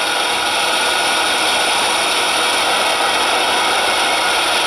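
Diesel engine sound from a decoder in an Athearn Genesis ES44AC model locomotive notching up to run 8: a loud, steady, dense roar that holds unbroken throughout, with no talk.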